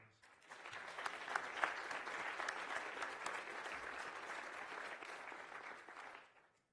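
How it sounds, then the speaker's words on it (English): Steady applause from a lecture audience greeting the start of a talk, a dense even patter of many hands that swells quickly, holds for about six seconds, then fades out with no voices over it. "So shall we have a round of applause to kick off their lecture, please."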